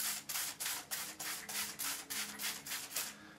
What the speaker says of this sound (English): spray it down a little